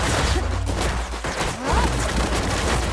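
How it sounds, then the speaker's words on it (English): Rapid bursts of gunfire from the video game Black Desert Online crackle continuously, including revolver shots, sharp shots layered over dense noisy combat sounds and brief whooshing effects. "the satisfying gun noises you hear with her, especially the revolver"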